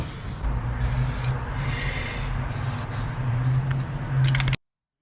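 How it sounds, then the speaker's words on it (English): Plasti Dip is sprayed onto car wheels in close, hissing bursts with short pauses between passes. A quicker sputtering burst comes at the end before the sound cuts off abruptly. "We just got done painting the third coat of Plastidip."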